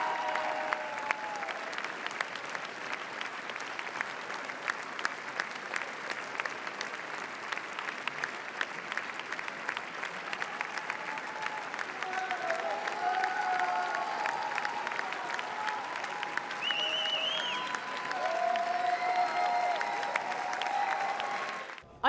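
A standing ovation at a Cannes film premiere: sustained, dense applause from a large theatre audience, continuous for over twenty seconds and swelling slightly toward the end, with faint whoops or cheers rising above the clapping.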